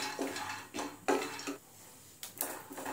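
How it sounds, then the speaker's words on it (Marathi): Peanuts being roasted in a pan, dry nuts clattering and scraping against the metal in a few separate stirring bursts with short pauses between, fairly close and quiet, with no voices. "त्यामध्येच आपण शेंगदाणे भाजून घेऊया।"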